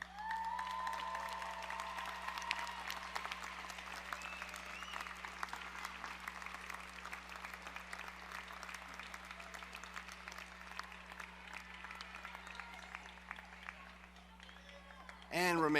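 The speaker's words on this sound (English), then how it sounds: "give all those loved ones a big round of applause" Sustained applause from graduates at a university spring commencement ceremony, a dense, even wash of many hands clapping in a large hall that holds steady for over fifteen seconds before a voice cuts in.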